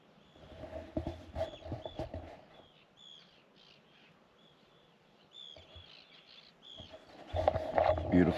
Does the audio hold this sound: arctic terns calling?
yes